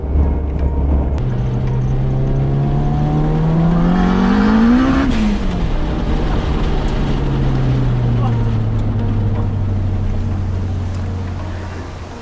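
A 500hp 1989 Mugen Honda CRX engine under way, a loud continuous drone whose pitch climbs to a peak around mid-clip and then settles back to a steady hum, with road and wind noise throughout.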